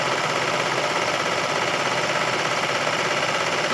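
A serger machine runs steadily while stitching along the edge of a blanket, giving a continuous, close, mechanical whir with a fine rapid rattle and no talking.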